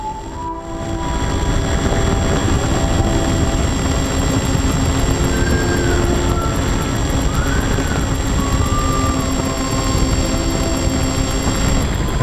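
An FT SeaDuck electric RC plane with a 4-cell battery and 9x4.5 props cruises at low throttle, its steady motor and propeller whine continuous and fairly loud over outdoor wind noise.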